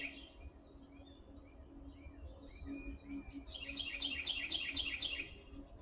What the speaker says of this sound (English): Enjoy the little birdies singing away